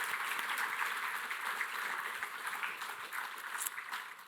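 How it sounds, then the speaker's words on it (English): Symposium audience giving a round of applause, a steady, dense wash of many hands clapping, fairly quiet and distant, lasting throughout without voices. "I just think that deserves another round of applause"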